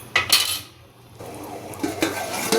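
Tuber pieces being stirred into masala in a pan for a Sainik kilangu kari varuval, with a few metal scrapes and clinks of a spoon against the pan, mid-loud, and no talking.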